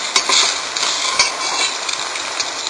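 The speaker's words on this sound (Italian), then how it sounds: "Stanno ritornando a bollore, adesso li leviamo e li mettiamo a scolare." Eggplant pieces in a pot of water coming back to the boil give a steady, close bubbling hiss with small clinks and pops, no voices.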